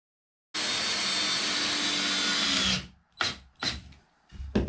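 A power drill drives screws into the wooden boards of a DIY Mercruiser sterndrive roller stand, one long steady whir followed by three short bursts, close and loud with no talking.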